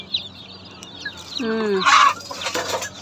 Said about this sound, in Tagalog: 28 pieces na sisiw yan mga idol.